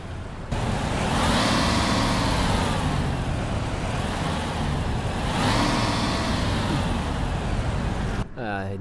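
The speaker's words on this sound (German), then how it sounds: "Ein richtig schön kerniger MAN-Sound." A deep MAN diesel bus engine in the video game Omsi 2 idles steadily with a throaty, rumbling drone that swells slightly, ending abruptly.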